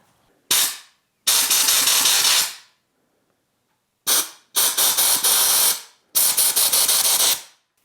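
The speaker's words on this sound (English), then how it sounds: "let's shoot some air through this and see if it's got plugged up in there." Compressed air blasted through the fuel line of an Alumacraft boat's gas tank, coming in five loud hissing bursts of about one to two seconds each, separated by silent gaps, with no talk.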